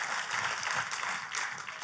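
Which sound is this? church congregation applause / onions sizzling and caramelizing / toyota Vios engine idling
church congregation applause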